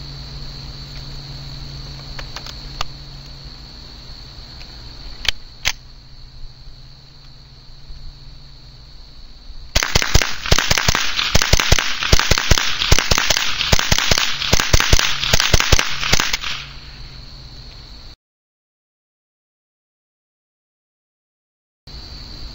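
A Ruger 10/22 semi-automatic rifle fires Remington Gold rounds from a 25-round magazine in rapid succession, a dense string of sharp cracks over about six seconds after a few isolated shots, then silence.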